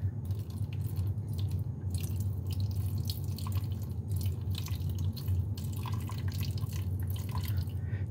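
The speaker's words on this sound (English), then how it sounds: "A few more drips." Water drips fall during a water extraction efficiency test, a few faint drips over a steady low hum, close and quiet with no talking.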